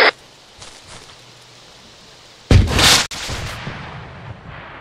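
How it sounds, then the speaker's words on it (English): RPG rocket launcher fired in the ARMA co-op video game: one loud, sudden blast with a roaring burst that cuts off sharply, followed by a fainter rumbling tail. "Firing RPG."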